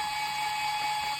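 Small motor whining at a steady high pitch, close and fairly faint, while screws on the tonearm bracket of a Technics SL1200 turntable are undone.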